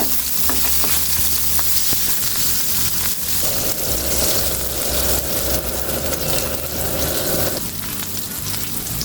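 Rui fish pieces sizzle continuously in hot oil, a close, even crackle joined midway by a steady stirring or scraping tone, with no talking.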